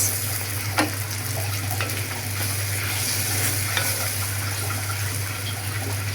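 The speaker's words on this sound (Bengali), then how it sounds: "আদা রসুন পেস্ট মশলাটা ভালো করে আমি কষাই আর দিয়ে দিলাম কাঁচামরিচ" Ginger-garlic paste masala with green chillies frying in a pan for a rohu fish curry, a steady close sizzle with occasional scraping stirs and a constant low hum underneath.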